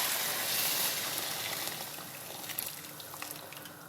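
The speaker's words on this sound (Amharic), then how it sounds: "ከዛ እዚህ ጋራ ውሃ ጨምራለሁ።" Water poured into a cooking pot of kebsa, a red paprika-spiced stew, in a home kitchen, giving a steady close splashing wash that slowly eases off, with no talk over it.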